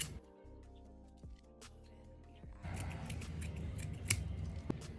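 Scissors snipping through Isi Agu fabric for a baby wrapper, a quick series of close, crisp cuts that starts faintly and grows busier and louder partway through, with no talking.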